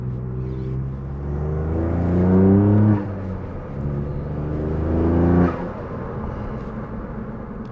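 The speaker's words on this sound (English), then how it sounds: "Turbo noise is so nice on this." A Ford Fiesta ST Mk8.5 with an engine tuned past 250 bhp, revved twice while stationary in normal mode. Each rev rises steadily, then drops sharply off throttle. Between the revs the idle drones and turbo whoosh is heard, loud and close.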